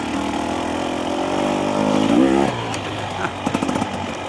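A 2025 Husqvarna TE300 dirt bike engine drones and rises in pitch while riding through wet, off-camber trail terrain, then drops off into short sputtering pulses, loud and close.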